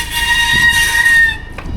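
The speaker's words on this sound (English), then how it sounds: "these brakes get a bit squeaky in the wet until they're warmed up" Wet e-bike brakes squeal in a sustained high-pitched tone close by, holding steady for over a second before fading out amid background rumble.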